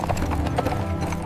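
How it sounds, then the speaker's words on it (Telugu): A bullock cart rolls slowly along a village road, with steady hoof clip-clops and a continuous rumble of wheels, close and moderately loud, with no talking. "ఎద్దుల బండి నెమ్మదిగా గ్రామ రోడ్లో సాగుతోంది."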